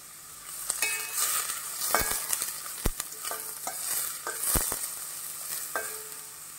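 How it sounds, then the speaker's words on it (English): Onions sautéing in a pan for a Goan breadfruit caldine: bright, steady frying hiss with several sharp spatula knocks and scrapes against the pan, no voices. "Let it saute for a while."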